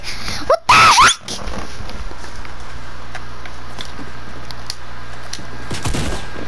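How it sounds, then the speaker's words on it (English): A loud, dense burst of video game gunfire aimed at an opponent lasts about half a second, then gives way to a low steady background hum with a faint sound near the end. "So then I start shooting at him, and watch this."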